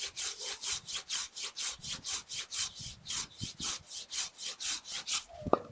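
A Samurai GKC-300-LH Japanese garden hand saw cuts through soft willow wood with steady, rhythmic back-and-forth rasping strokes, close and clear, ending in a sharp crack as the piece comes free.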